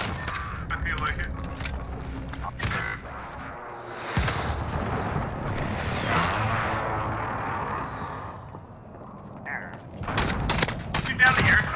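Call of Duty Modern Warfare match with an airstrike and gunfire: bursts of automatic fire and cracks, a rumbling explosive stretch in the middle, then heavier volleys near the end, with players talking over parts of it.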